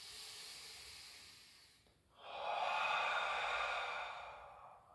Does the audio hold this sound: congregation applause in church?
no